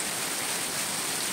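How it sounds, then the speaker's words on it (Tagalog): Heavy rain during a typhoon: a dense, steady wash of loud, close rainfall with no talk and no break in its hiss. "Malakas ang ulan."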